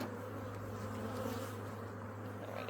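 Steady, close insect buzzing from a mass of honeybees at an open hive, a continuous low hum with no talking, holding an even level throughout.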